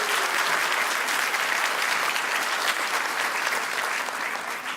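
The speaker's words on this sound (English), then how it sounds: "can we have a round of applause for our board and our Chancellor" A graduation audience applauds the college board and Chancellor, a dense, even wash of clapping from a large crowd that holds steady and loud the whole time before easing slightly at the end.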